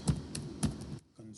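Two bursts of keystrokes on a computer keyboard, typing out a short command, closely miked and fairly loud, followed by a quieter stretch with faint low hum.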